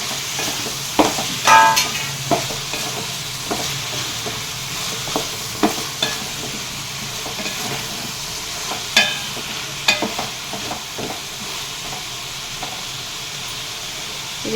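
Eggplant and tomato cook in a Palnadu-style bottle gourd sambar pot, giving a steady soft sizzle and simmering hiss broken by scattered stirring scrapes and clinks, with no talking.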